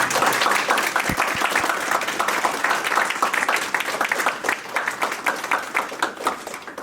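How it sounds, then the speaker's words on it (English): Graduates of a massage therapy program receive a sustained round of applause from the crowd at their graduation ceremony, dense clapping from many hands that stays steady and fairly loud throughout. "I want to do a round of applause to all the grads right now that are here."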